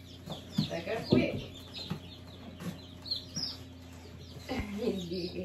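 Newborn chicks just placed in a brooder box give bursts of high peeping and chirping, close and fairly faint, while people talk over them.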